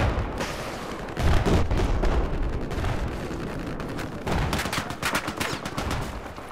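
Dense, sustained gunfire and booming explosions in a war-style video game, with rapid machine gun bursts blending into a continuous loud roar of battle that surges in intensity.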